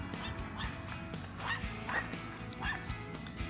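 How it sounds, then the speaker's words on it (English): Small dogs yap and bark outdoors in a yard, a quick run of high, sharp yips and whimpery barks repeating every half second or so at moderate distance. "look at those little dogs over there"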